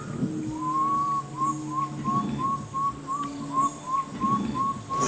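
A person whistles a series of short, evenly spaced rising notes imitating a water bird, used in the Surinamese wilderness to lure wolf fish while bow fishing; the whistles repeat steadily over faint low background hum.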